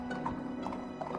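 Horse hooves clip-clop in a brief, steady rhythm of muffled thuds over a low background hum, fairly close.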